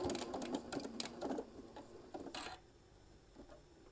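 Sewing machine stitching fabric for a small travel case for a mini iron, rapid close mechanical needle chatter in several short bursts, then fading to quieter pauses between runs.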